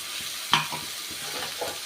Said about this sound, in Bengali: এবার আমি ভালো করে কষিয়ে নেবো মশলাটা